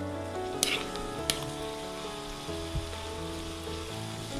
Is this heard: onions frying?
yes